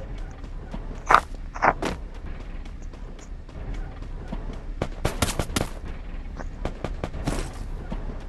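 Gunfire aimed at the player in a video game, heard as scattered sharp cracks and bursts of shots at uneven intervals, some clustered in quick volleys, against a low busy background with no clear talk.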